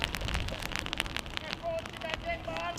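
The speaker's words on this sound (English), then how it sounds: "Rain is coming down steadily." Steady rain falls at an outdoor soccer cup final, a dense pattering of drops and light crackles on a surface, with a voice speaking over it.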